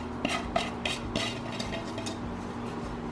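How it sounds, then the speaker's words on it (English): A spoon stirs finely shredded chicken into a pot of chicken and dumplings, giving repeated scraping and clinking strokes against the pot over a low steady hum, close and moderately loud. "I'm going to mix this together, stir everything in"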